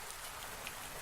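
Rain falls through a seized-open trapdoor above a gallows, a soft, steady hiss of drops with no other sound.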